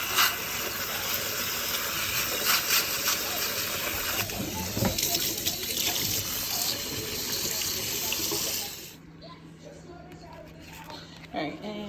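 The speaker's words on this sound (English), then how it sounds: "And so now I'm just washing off the tomatoes real quick." A kitchen tap runs in a steady loud stream while tomatoes are rinsed under it, then the water shuts off near the end, leaving quiet room sound.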